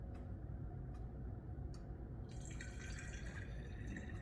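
Kombucha being poured through a strainer while bottling, first slow drips and small ticks, then a steady splashing pour that continues to the end, close and fairly quiet.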